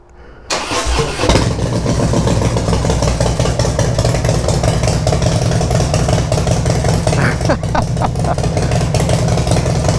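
A Harley-Davidson motorcycle fitted with a new exhaust cranks briefly, then fires up and settles into a loud, deep, steady idle close by, running throughout with no talking.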